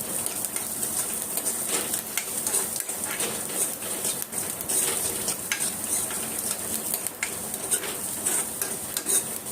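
Onions roast with turmeric and salt in a pan for upma and fill the clip with a continuous close sizzle. Scraping stirs run through it and a few faint knocks surface in the background.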